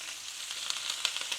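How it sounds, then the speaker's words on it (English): Steady hiss of thyme frying in a pan with pork chops, with small crackles and pops scattered throughout, fairly quiet and close. "Lovely, that sizzle of that thyme"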